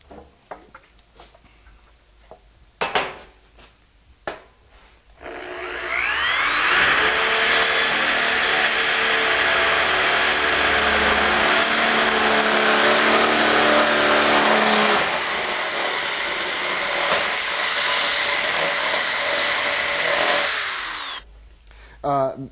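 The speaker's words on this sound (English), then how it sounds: "This is aluminum cutting fluid to help cut through this metal." A power tool cuts through aluminum metal slicked with cutting fluid, giving a loud, sustained grinding whine for about sixteen seconds, preceded by scattered clicks and knocks of handling.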